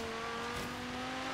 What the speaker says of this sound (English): Hopefully you can hear the car, right?